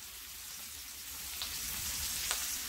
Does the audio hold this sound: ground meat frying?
yes